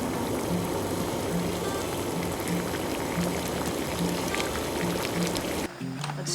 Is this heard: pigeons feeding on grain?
no